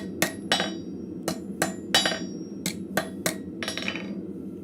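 Scrap metal arrowhead socket hammered on the edge of an anvil in a blacksmith shop: about ten sharp ringing blows in an uneven rhythm, close and bright, over low forge background noise.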